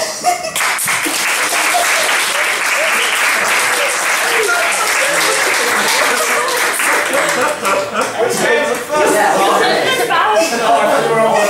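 An audience applauds to welcome performers onto the stage at a comedy improv gaming show, steady loud clapping filling the whole stretch with a few cheers mixed in.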